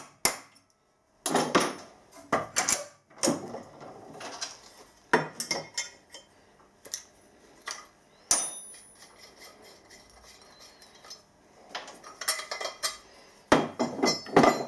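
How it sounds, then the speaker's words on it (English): Sharp metallic taps of a hammer striking a transfer punch on an aluminium engine mount, irregular single and double hits with short pauses between, close and ringing. "We'll mark this one with a transfer punch"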